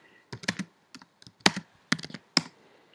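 Close computer keyboard typing in short irregular bursts of crisp clicks over about three seconds, with quiet pauses between and no talk.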